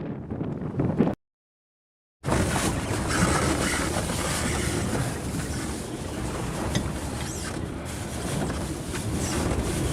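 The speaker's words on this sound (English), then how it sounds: "We got some high wind. This is our second gale." A gale at sea roars over a junk raft built from plastic bottles, a loud, steady rush of wind and surf that cuts out briefly near the start and then returns at full strength.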